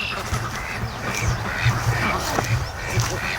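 Pekin ducks by a lake quack repeatedly in short, nasal bursts, several birds close by calling in an irregular, overlapping chorus over outdoor background noise.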